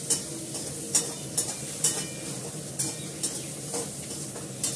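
Onions and potatoes fried until reddish sizzle steadily in a pan with fish added, punctuated by regular scrapes and clinks of a spatula stirring them.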